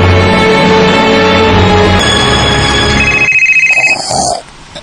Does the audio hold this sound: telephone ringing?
yes